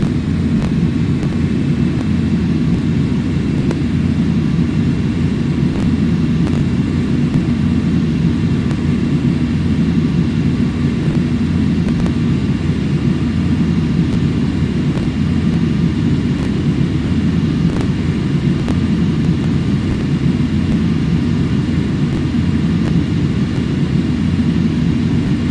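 An airliner cruising on approach toward Auckland in Flight Simulator X, a steady low engine drone with constant rumble and faint regular ticks, unchanging throughout and with no voices.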